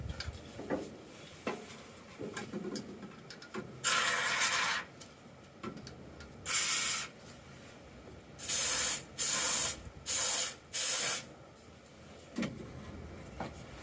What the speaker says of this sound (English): Using some Max chain and cable lube. This stuff's awesome.